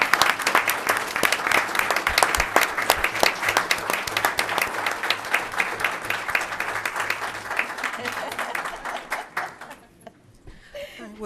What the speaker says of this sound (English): let's give her a round of applause for the excellent job